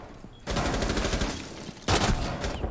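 Gunfire in the video game Rainbow Six Siege comes in two loud, rapid automatic bursts, the second starting abruptly after a short lull, with no talk over it.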